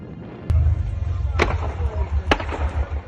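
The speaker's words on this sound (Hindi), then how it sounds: "खार्किव में रूस के हमलों के बाद गैस पाइपलाइन में जोरदार धमाका हुआ" Gas pipeline blast in Kharkiv after Russian strikes: a low roaring rumble with three sharp cracking bangs spaced about a second apart, heard from a distance over continuous background noise and faint voices.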